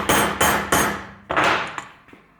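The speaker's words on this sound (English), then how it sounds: "I'm going to try and hammer this down a little bit more." A hammer strikes a part being fitted during a Daytona Coupe replica build's emergency handle assembly: three sharp, evenly spaced blows, a pause, then a fourth hit and two lighter taps, close and loud with ringing decay, no talk.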